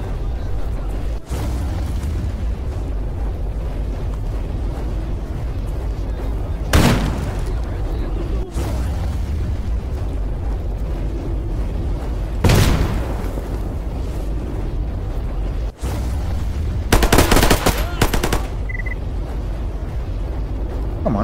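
Bandits firing in Stalker GAMMA, heard as a few distant, separated gunshot cracks and bursts over a steady rumbling outdoor ambience, with a closer rapid volley near the end.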